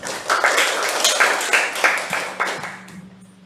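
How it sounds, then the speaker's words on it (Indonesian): Teachers at a workshop clap together in a short round, with a few distinct rhythmic pulses standing out before the clapping thins and fades away. "Tepuk tangan untuk kita semua."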